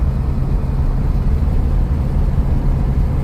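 Car engine cruising at 45 mph in fifth gear near idle, a steady low rumble with broadband road noise, even and continuous inside the cabin, no voices.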